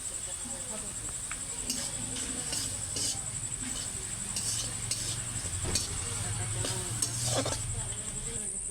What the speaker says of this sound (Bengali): মশলাটা ভালো করে কষিয়ে ঝুলটা দিয়ে দেবো।